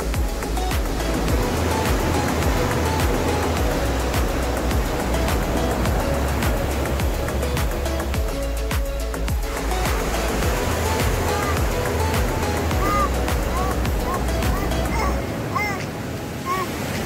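Rough sea waves surge against the shore with a loud, steady roar that never lets up, over a long stretch with no clear voices.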